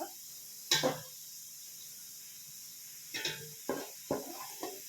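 Onions sizzle in a pan for chicken pulao, a quiet steady frying hiss broken by a few sharp stirring scrapes and clinks.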